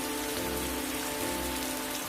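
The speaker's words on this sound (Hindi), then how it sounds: "ये बारिश तो जैसे कहर बनकर टूटी है।" Heavy cartoon rain pours in a steady, dense hiss, unbroken and fairly quiet, with a low hum running beneath it and no voices.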